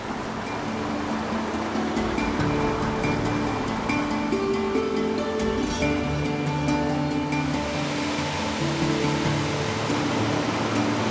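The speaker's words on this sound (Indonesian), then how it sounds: "sekarang kita sudah tiba di Sampuran atau air terjun air Sibanggor" Steady, loud rush of the Sibanggor waterfall in Batang Gadis National Park, a continuous broadband roar of falling water that runs the whole time, with sustained tonal music layered over it.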